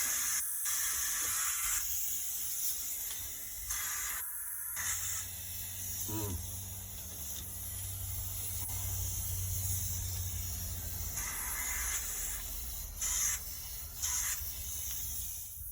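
Steady air hiss leaking from an old truck's air shifter, a continuous broadband spray that runs nearly unbroken, close and fairly loud, with brief pauses and a few clicks and handling knocks between bursts.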